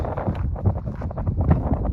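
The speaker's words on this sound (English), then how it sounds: "A little bit windy, so hopefully you can hear the audio and everything." Low, rumbling wind buffets the microphone in uneven gusts, a steady blustery roar with no voices.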